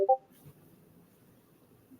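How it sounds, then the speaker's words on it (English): A couple of quick Discord message notification chimes sound at the very start, followed by near silence. The tones are brief, bright and close. "those are Discord messages from other people messaging it"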